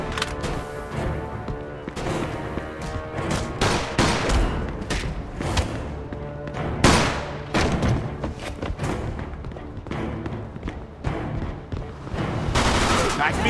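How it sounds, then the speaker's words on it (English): Gunfire in the video game Mafia II: rapid bursts of automatic weapons and heavy thumping shots crackle almost nonstop, loud and close, with voices shouting now and then over the shooting. "Stop shooting that fucking thing."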